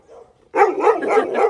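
A brown Mudhol hound on a farm barks in a quick run of loud, close woofs after a short quiet lead-in.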